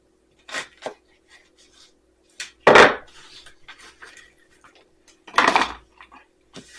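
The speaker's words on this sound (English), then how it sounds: "I'm just going to cut that off and continue slicing the onions." A kitchen knife slices through onions on a board, a few scattered cuts followed by two louder, longer strokes, close and isolated against a quiet background.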